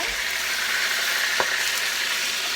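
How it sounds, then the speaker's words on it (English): Steady, loud sizzling of chicken frying in a hot pan, a constant crackling hiss with no voices. "That's what happens when you are frying. It gets kind of loud."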